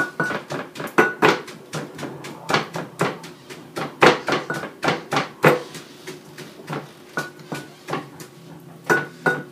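Cabbage being shredded on a handmade cabbage chopper for sauerkraut: a steady series of sharp, close scraping strokes, roughly two to three per second, each a quick crunchy rasp.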